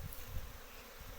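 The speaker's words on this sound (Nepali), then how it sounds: "तल आयो मौरी" A swarm of honey bees hums in a continuous low, close buzz that wavers slightly in loudness for about a second.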